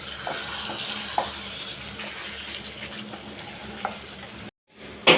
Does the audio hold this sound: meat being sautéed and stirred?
yes